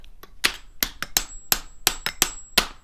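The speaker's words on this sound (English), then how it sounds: "If I just take this hammer and just" Hammer repeatedly whacking a rusted axle on a Traxxas Summit 1/10 RC truck, about ten sharp metallic strikes in an uneven rhythm, close and loud with no talking.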